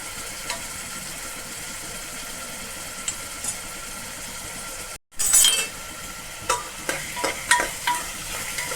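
Spices crackling in hot oil for a bottle gourd and lentil curry: a steady low sizzle runs throughout, then a sharp burst of spattering after a brief pause, followed by scattered pops and clinks close by.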